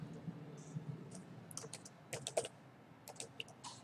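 Rapid, irregular clicks of code being typed on a computer keyboard, close and fairly quiet, in short bursts with brief pauses.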